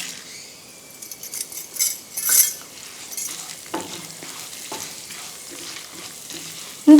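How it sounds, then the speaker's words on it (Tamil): Chana dal and urad dal frying golden in oil over medium flame for coriander chutney, heard as a light crackling sizzle with clinks of a spoon against the pan and a few louder stirring bursts. "நம்ம எடுத்து வச்சுருக்கிற கடலைப்பருப்பையும் உளுந்தம்பருப்பையும் நம்ம பொன்னிறமாக ஃப்ரை"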